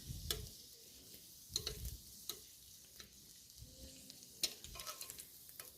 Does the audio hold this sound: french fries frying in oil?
yes